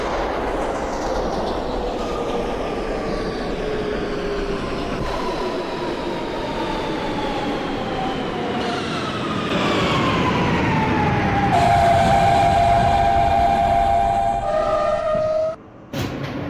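A simulated R160B Siemens subway train on the T local line runs steadily in a train simulator game, a continuous rumbling ride with rising and falling electric motor whines, growing louder mid-run before a brief cutout near the end.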